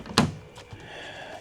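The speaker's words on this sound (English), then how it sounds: "Can I get these doors open without bumping into the?" A car door on a 2023 Kia Sportage opens with one sharp latch click up close, followed by soft rustling and faint creaks as it swings open in a quiet setting.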